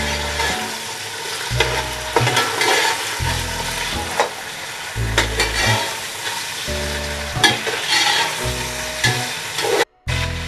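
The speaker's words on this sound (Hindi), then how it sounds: "प्याज गोल्डन हो गई है। हम इसमें ये चिकन ऐड कर रहे हैं। ये क्यूब्स में कटी हुई है, बोनलेस चिकन है।" Boneless chicken cubes, about 300 grams, dropped into golden fried onions in a pot for vegetable pulao sizzle steadily while being stirred, close and fairly loud, with background music playing throughout.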